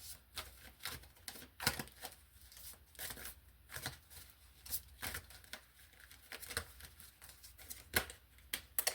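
Rapid papery riffling and slapping of tarot cards being shuffled in repeated short bursts, close by and fairly quiet, with no talking.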